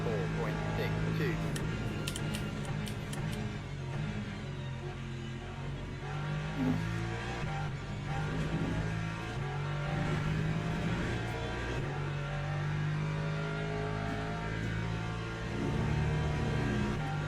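A Porsche race car engine in the Le Mans Ultimate racing game drones and revs steadily through gear changes, with other cars buzzing nearby, while someone talks over it throughout.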